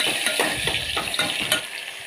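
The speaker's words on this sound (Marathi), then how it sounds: "पहिले तेल टाकलं, आता जिरे टाकले आणि लसूण टाकला हे बघा." Cumin seeds and garlic sizzle steadily in hot oil for an okra and cluster bean stir-fry, a close, bright crackle broken by a few clinks and scrapes of stirring.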